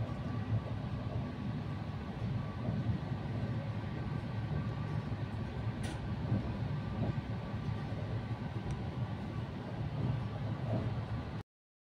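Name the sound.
Vistadome train arriving at Siliguri Junction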